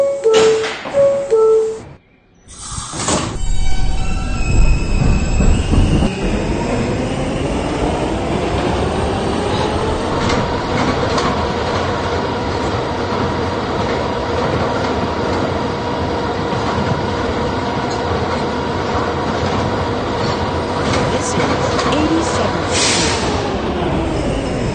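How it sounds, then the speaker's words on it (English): New York City subway R160B car running on the B line, a loud steady rumble and rail roar with a rising motor whine as the train pulls away after brief door chimes, wheels clattering, no talking. "This is a Rentar Plaza-bound B train."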